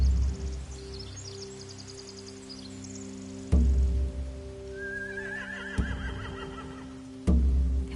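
Horses whinny in a video game scene from Telltale's The Walking Dead, a shrill rising neigh sounding in the middle over a steady low ambient hum, with a few dull thumps.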